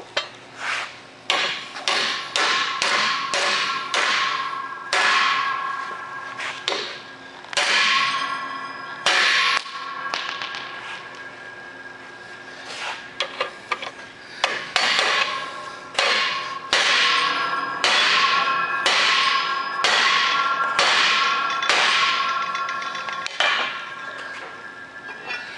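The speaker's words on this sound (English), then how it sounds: "we'll just see if we can just knock one of these tabs off right here." A hammer strikes the metal tabs of an exposed Andersen Ultimate hitch lock locking system in rapid bursts of loud, ringing metallic clanks, pausing briefly between volleys, close and with no talking.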